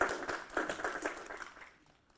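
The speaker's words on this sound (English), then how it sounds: "A round of applause." Brief burst of applause from a town meeting audience greeting local officials, a moderate patter of clapping hands that thins out and fades to quiet after about a second and a half.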